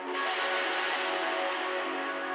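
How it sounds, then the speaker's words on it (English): A sustained, dense guitar chord rings out with a heavily washed, distorted texture, smeared and steady from start to finish with no voices. "someone like strumming the guitar and like a nice washed out distortion kind of effect"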